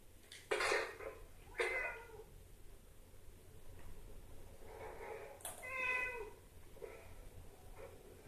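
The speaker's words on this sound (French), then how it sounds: "Pourquoi il y a la blinde de chat?" Several cats meow indoors in a series of distinct calls, some sharp and rising, others drawn out, spaced irregularly over a quiet background at moderate distance.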